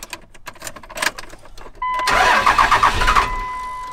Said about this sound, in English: So anyway, the truck now starts right up.